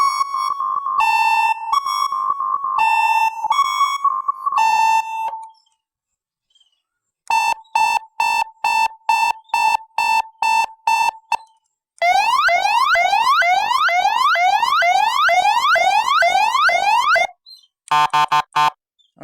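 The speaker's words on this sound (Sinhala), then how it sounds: "තුන්වෙනි හතරවෙනි එකත් siren එක. පස්වෙනි එකත් siren එකම තමයි." A bicycle siren horn sounds in a run of electronic tones: repeated two-pitch warbling beeps, a pulsing series of short bursts, then rapid rising sweeps and a final harsh buzz, loud and close with brief gaps and no talking.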